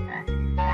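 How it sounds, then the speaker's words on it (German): A cartoon frog gives one loud, close croak, a short buzzy call standing alone with no talking. "Ich glaube, sie haben sich alle in Frösche verwandelt."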